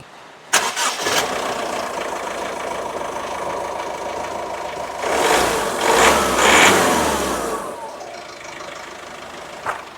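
A Honda diesel car engine with only 30,000 km cranks and starts abruptly, then settles into a steady rattling idle, briefly revving louder midway before dropping back and cutting off.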